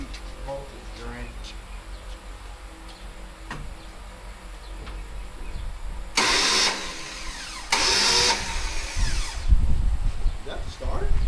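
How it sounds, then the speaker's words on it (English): Starter motor on a 1974 Dodge Dart Swinger small-block engine cranks in two loud bursts of a few seconds each, a short pause between them, with quieter background noise before and after. "Is that the starter?"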